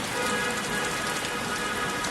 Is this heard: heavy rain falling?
yes